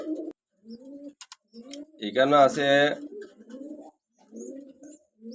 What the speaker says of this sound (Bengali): এক পেয়ার কবুতর